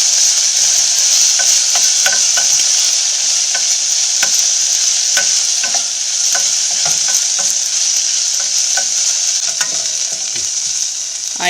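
Onions, garlic and curry leaves sauté in a pan with a loud, even sizzle throughout, broken by frequent scraping and stirring clicks of a utensil against the pan, with no talking.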